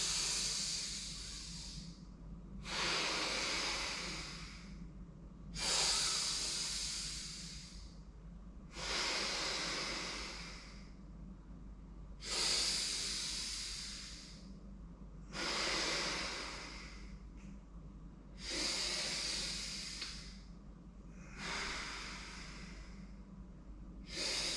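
Deep breathing in and out during slow yoga head rotations, with about eight to nine regular breathy hisses, each rising and falling, evenly spaced and close, in a quiet room with no talking.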